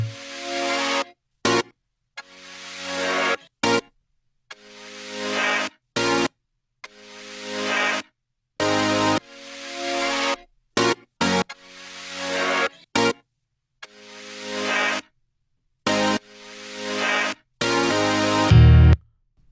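Chopped, rearranged music sample for a song: short, loud harmonic bursts in a steady bar-by-bar rhythm, each cut off by brief silences, ending with a deeper thump.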